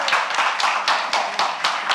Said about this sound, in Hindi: ये होता है ना मिर्जापुर स्टाइल ताली बजाना, ऐसे कोई प्यार से, जोर जोर से, दे धड़ाक।